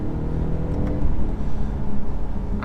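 A 2017 BMW 540i saloon with the B58 engine pulling hard under acceleration, a loud sustained low engine drone heard from inside the cabin, with no talk.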